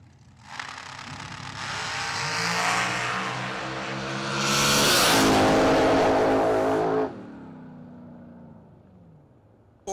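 At South Georgia Motorsports Park, an outlaw drag racing car accelerates down the 660-foot strip with a roar that builds quickly, peaks as it passes close by, then cuts off sharply and leaves a fading tail.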